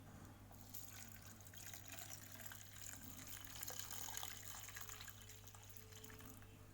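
A cup of water poured into a banana peel and cornstarch mixture, a steady close splash and trickle that builds slightly and keeps going, with no talking.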